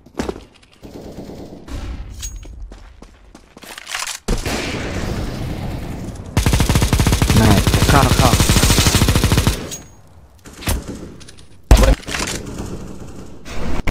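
First-person shooter gunfire: scattered single shots and short bursts, then a long, loud sustained volley of automatic fire, followed by a few isolated sharp bangs, with faint game sounds between.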